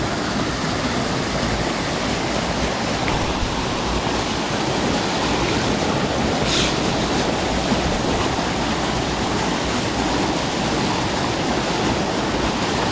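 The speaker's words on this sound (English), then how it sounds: "Over the waterfall." A waterfall on a wild trout stream roars as a steady, dense rush of falling water, close and loud, unbroken throughout with no voices.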